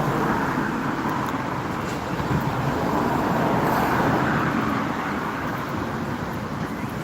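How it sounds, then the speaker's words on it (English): Evening street traffic in Wexford town at Christmas, a steady close roar of cars and other vehicles rolling past without a break. "Good bit of traffic in Wexford this evening,"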